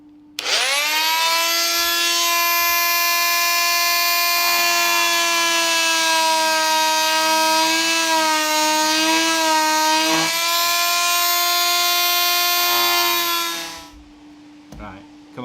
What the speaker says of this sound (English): I'm just going to use this this oscillator now and gouge them out